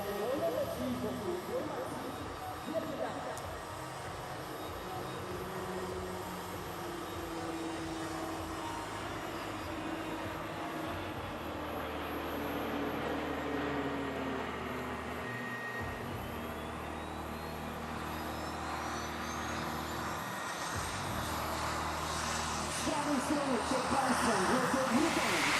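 Aerobatic display team aircraft performing at the Radom Airshow, a steady broad engine roar throughout with a rising whine later and a louder swell near the end; commentary voice runs underneath.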